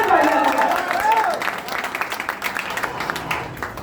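Crowd applause at a community gathering in Mumbai breaks out as a voice finishes speaking, quickly building into a continuous patter of many hands clapping at moderate loudness.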